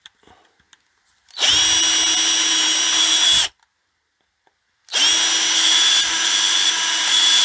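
A 3mm bit spins in a power drill as holes are bored in metal during a tumble dryer repair: two loud, sustained bursts of about two seconds each, separated by a short silent pause.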